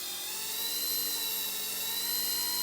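Small electric RC helicopter motor whining at high pitch as the throttle is worked from the transmitter sticks, a loud steady close whine with a slight rise in tone, no talk.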